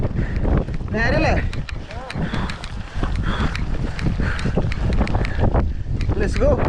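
Wind buffets the microphone on a mountain bike downhill trail at Kallipara, a loud, steady rush throughout, with rattles and bumps from the ride and a person talking over it.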